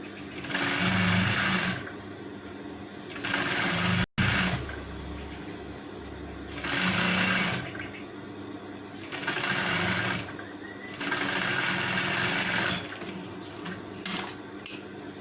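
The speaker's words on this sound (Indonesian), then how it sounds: "lipat bawah bagian kaki, jahit setengah senti dari ujung pinggir." A sewing machine stitches a folded fabric hem on a trouser leg, running in repeated close bursts of steady whirring and rattling, separated by brief pauses and a sharp click.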